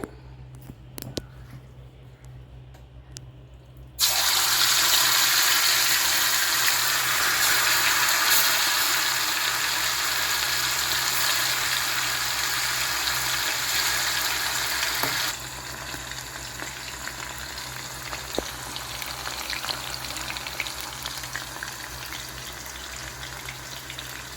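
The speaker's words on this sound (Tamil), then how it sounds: "இப்போ இதை ஆயிலில் பொரித்து எடுத்துடலாம்." Marinated Guntur chicken 65 dropped into hot oil, a sudden loud, close bubbling sizzle that continues steadily and eases somewhat later on, with no talk.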